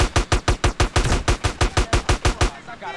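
A rapid burst of about fifteen evenly spaced gunshots rings out in GTA: San Andreas, loud and close, then stops abruptly into quieter game ambience.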